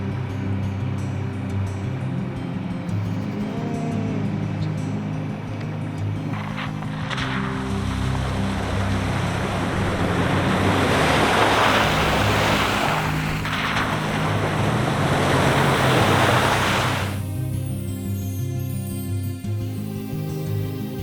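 Strong wind blasts steadily against the microphone, swelling in the middle, over a low engine-like hum; no one speaks.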